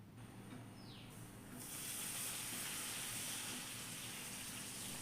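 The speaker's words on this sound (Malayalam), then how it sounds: "ഇനി നമ്മൾക്ക് ഇതേ ഓയിലിനകത്തേക്ക് തന്നെ പപ്പടം വറുത്തെടുക്കണം" Papadam frying in hot oil, a steady dense sizzle and hiss that swells louder partway through and then holds, close and continuous with no talk.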